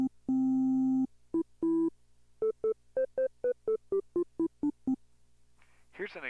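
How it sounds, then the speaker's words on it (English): A synthesizer tone with sharp attack and sharp decay plays as a series of short, clipped beeps at varying pitches, starting with two longer blips then a quick rhythmic run, clear and alone before a voice starts at the end. "Here's an example of a sound with a sharp attack and a sharp decay."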